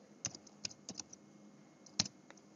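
A few separate keystrokes on a computer keyboard, clicking sparsely and close by in a quiet room, with a louder tap near the end.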